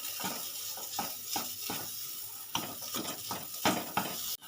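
A spoon scrapes and knocks against a pan while spiced potatoes are stirred dry, with gentle repeated strokes over a faint background hiss.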